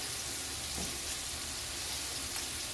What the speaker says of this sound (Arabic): تقليها كده الكفتة عشان تاخد كلها لون واحد